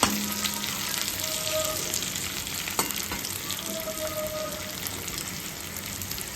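Potatoes in hot oil give a constant near crackling sizzle for sorshe potol, a dense unbroken hiss with a faint watery undertone, one brief utensil knock and no speech.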